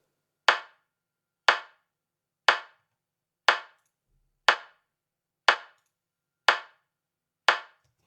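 A single clap sample with a short-decay reverb tail repeats eight times at a steady one-per-second rhythm, each hit sharp and close and then quickly fading into silence.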